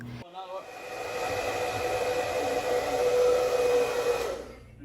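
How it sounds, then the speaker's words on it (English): A hair dryer whirs steadily at close range, run near a broken TV or karaoke machine screen, its airy roar holding a constant tone for several seconds before cutting off. "Now simply run the hairdryer near the device, but not too close to it."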